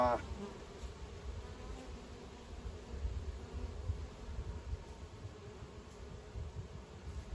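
Honey bees buzz steadily around an opened hive being inspected and reduced from two boxes to one, a dense, continuous drone close by that swells and eases slightly, with a short rustle at the start.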